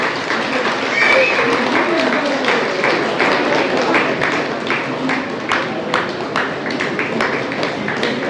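An audience claps steadily at an award ceremony for students, a dense patter of hand claps that continues for the whole stretch, with a voice talking over it near the start.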